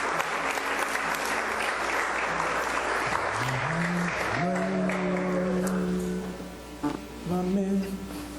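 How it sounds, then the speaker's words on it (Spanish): A church congregation applauds during a pastor's sermon, loud dense clapping for several seconds that tapers off while voices call out and sing over the fading applause. "Demos ese aplauso al Eterno"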